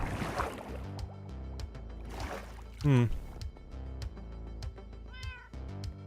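A house cat meows once, short and fairly close, amid quiet background music, with a person speaking softly around it.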